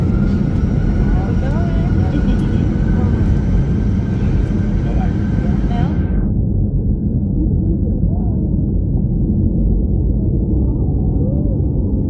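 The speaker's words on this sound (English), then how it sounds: "a loud cabin, plus your regular airplane noise" Constant loud roar of airplane engines inside a cabin, a dense steady drone that suddenly becomes duller and more muffled partway through.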